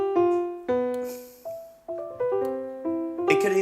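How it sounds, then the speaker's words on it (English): A piano plays a few single notes and chords, each struck clearly and left to ring and fade, ending in a brief clatter. "Okay, this is just a piano,"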